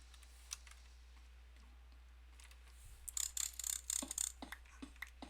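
Clicking noises from a hidden source in the Minecraft Advent of Ascension mod, a rapid run of faint ticking clicks that grows busier in the second half, with scattered soft clicks earlier and no talk.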